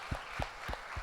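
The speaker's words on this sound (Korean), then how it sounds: "감사의 박수 한번 보내겠습니다." A congregation at a Korean church anniversary revival service applauds the pastor: a short run of about four spaced, sharp claps, moderately loud, with no talking.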